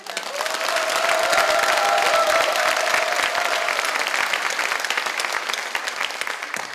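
Sustained applause from a large audience at a party rally, a dense steady wash of clapping throughout with a faint tone riding over the first few seconds.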